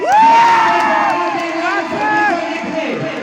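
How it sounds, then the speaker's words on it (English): Crowd cheering and whooping at a live stage performance at ZKYF Dengaon 2021: a loud, close, sustained roar of many voices with rising shouts, holding steady throughout. "let's give a huge round of applause to the one and only"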